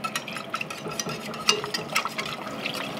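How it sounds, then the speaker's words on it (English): Flour whisked into beef stroganoff in a pot, a steady scraping and swishing with soft liquid sloshing and frequent small clinks of the whisk against the pot. "And just kind of whisk that in there."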